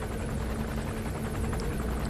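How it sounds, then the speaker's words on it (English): Helicopter arriving in the Metal Gear Solid V: The Phantom Pain video game, a steady loud rotor thrum with whooshing blade chop throughout. "Come on, helicopter"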